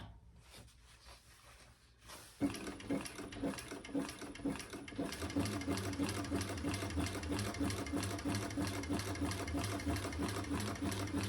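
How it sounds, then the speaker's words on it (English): Sewing machine stitching across the bottom of a cork tote bag, starting after a quiet moment and then running in a steady, close, continuous rapid whir with mechanical ticking. "And I'm going to stitch across the bottom."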